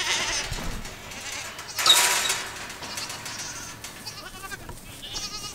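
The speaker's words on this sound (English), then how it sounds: "all the nosy goats has got to come too" Several goats bleating, one loud close cry standing out among fainter calls, with some creaking in the background.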